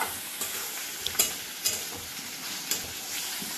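Onions frying in a pan for mutton boti kabab, a steady soft sizzle broken by a few sharp scraping clicks of a spoon, close and alone without voices.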